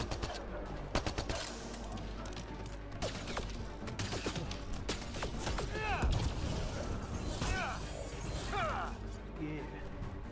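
Gunfire and combat clatter fill a firefight in the video game Mass Effect Andromeda, with dense bursts of shots, mechanical clanks and crashes running continuously at moderate loudness, with a voice talking over the top.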